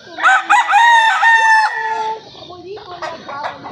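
An imported gamefowl rooster crows loudly and close by, one long drawn-out call, followed by softer clucking and farmyard noise.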